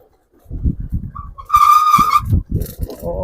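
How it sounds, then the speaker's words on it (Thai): A vehicle's brakes let out a loud, sustained high squeal lasting under a second beside a river, with rumbling and knocking before and after. "โอ้เบรกก็ดัง"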